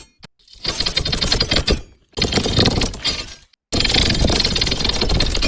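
A voice-made creature sound processed through the Krotos Humanizer plugin comes in three harsh, rattling, clicking bursts with brief gaps between them, close and dense with a mechanical, buzzing quality.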